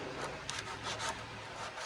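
Coarse 36-grit sandpaper rasping back and forth on hard fiberglass, used like a saw, steady scraping strokes with brief brighter bursts, close by and continuous.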